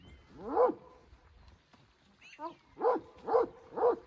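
Shepherd's dogs in a rural Turkish sheep-herding setting growl and snarl at each other, several rough growling bursts in close succession with a short pause between, fairly near and without talk.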